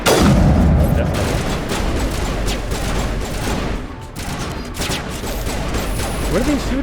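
Dense bursts of gunfire and booms from a firefight in Mass Effect crackle steadily, loud at first and easing slightly, with a few mechanical sounds near the end.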